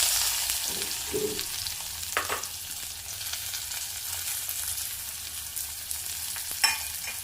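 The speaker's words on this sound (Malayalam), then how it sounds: "ഈ സമയത്ത് നമുക്ക് തയ്യാറാക്കി വെച്ചിരിക്കുന്ന ഉള്ളി ചെറിയ ഉള്ളി ഇട്ട് കൊടുക്കാം" Shallots dropped into hot oil for a drumstick-leaf curry sizzle steadily with a soft, even hiss, punctuated by a few brief stirring scrapes and clinks.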